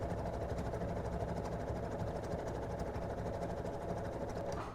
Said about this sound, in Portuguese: Então, vou costurar aqui.